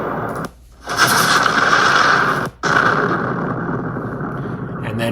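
AI-generated explosion sound effect: a dense, roaring burst of noise with a short gap, then another sustained rumbling blast that slowly fades, loud and without speech.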